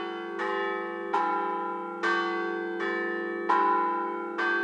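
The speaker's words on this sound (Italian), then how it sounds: "Alcuni ragazzi salgono sul campanile e suonano a tempo, a mano, le campane, facendo suonare tutto il paese praticamente." Church bells rung by hand from the bell tower of a village in San Tomaso Agordino sound in six loud, evenly spaced strikes, each leaving a long ringing hum that overlaps the next.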